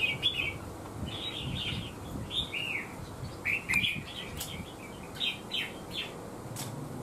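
A mào lân bird calls in short, high chirping phrases, repeated every second or so at moderate volume against a faint, steady background.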